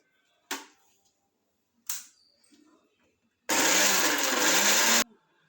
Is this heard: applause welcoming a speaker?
no